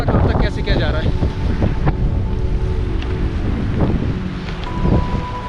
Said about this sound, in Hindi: हवा बहुत बर्फीली चल रही है